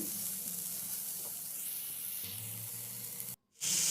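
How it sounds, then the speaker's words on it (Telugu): Spring onions and capsicum frying in a pan over a high gas flame give a steady, loud, close sizzle that runs without a break and cuts out briefly just before the end. "కొంచెం స్ప్రింగ్ ఆనియన్స్ కూడా వేసి గ్యాస్ హైలో పెట్టుకొని ఫ్రై చేయాలి"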